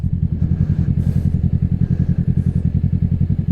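A 2024 Kawasaki Ninja 650 fitted with an M4 exhaust idles and burbles nearby, a loud, deep and rapidly pulsing engine note that stays steady throughout.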